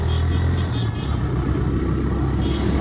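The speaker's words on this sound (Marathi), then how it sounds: "इकडे लागले ट्रॅफिक बघू शकता तुम्ही." Traffic jam on a road near Lonavala: car and motorbike engines rumble close by in a steady, dense low drone, with faint horn-like tones drifting over the top.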